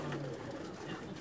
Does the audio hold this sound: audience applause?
no